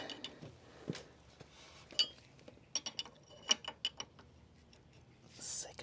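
Metal ring being fastened on a Wilbers Nivomat rear shock of a 2024 Harley-Davidson Road Glide, giving a series of close, sharp ratcheting clicks and clanks in irregular bursts, with faint rustling between.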